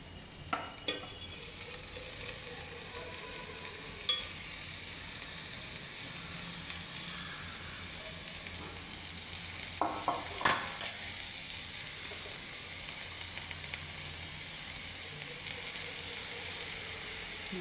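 Red amaranth greens go into a pan of rosy-fried onions and get stirred, a soft steady sizzle running underneath with occasional scrapes and clinks of the spoon against the pan.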